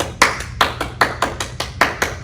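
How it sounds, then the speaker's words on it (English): Children clapping hands along to a song, a steady run of about eight crisp claps at an even, brisk rhythm, fairly loud and close with no talk. "Everybody clap your hands."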